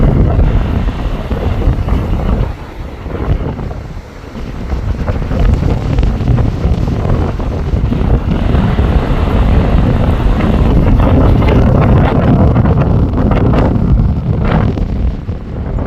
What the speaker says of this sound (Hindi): इतनी तेज हवा चल रही है कि मोबाइल को कंट्रोल करना भी मुश्किल है।